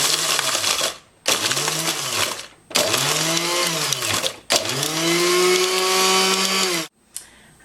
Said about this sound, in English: You want to process them until they get really fine and grainy.